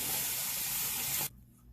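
Hot water rushes from a tap onto a reusable makeup remover cloth in a steady, loud hiss, then stops abruptly, leaving a faint low hum.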